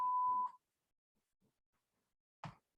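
A single electronic timer beep sounds clearly at the start, then after near silence a short, louder blip follows, with no talking.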